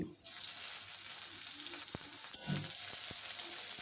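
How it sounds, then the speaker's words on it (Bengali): Crushed garlic and dried red chillies fry in hot oil, giving a soft continuous sizzle with a few sharp pops and utensil taps, fairly quiet and without talk. "এবারে থেতো করা রসুন দিয়ে দেব কিছুক্ষণ ভেজে নিয়ে"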